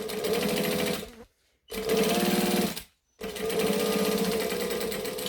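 A sewing machine stitches through vinyl in three fast, loud mechanical runs separated by two short pauses, up close with no voices.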